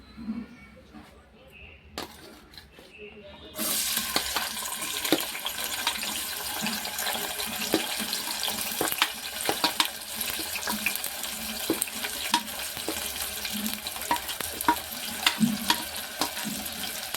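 Chopped onions hitting hot oil in a pan for a potato and tomato curry, a sudden sizzle that jumps in and holds as a steady, bright hiss with crackles throughout, close by.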